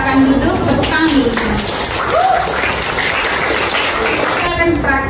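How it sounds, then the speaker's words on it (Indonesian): Classroom applause for a student after a presentation, lively continuous clapping from a group of students with voices chattering over it throughout. "Tepuk tangan dulu."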